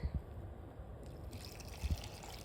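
Pickling brine poured into a glass jar of gherkins, a low steady trickle and gurgle of liquid filling the jar with a couple of soft knocks; quiet and close, no voices.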